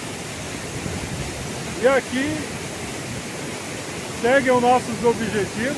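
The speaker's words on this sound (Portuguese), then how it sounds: "a Mata Atlântica, Cachoeira da Torre." Steady broadband rush of the Cachoeira da Torre waterfall in the Atlantic Forest of the Serra do Mar, a continuous roar filling the whole clip while someone talks briefly over it twice.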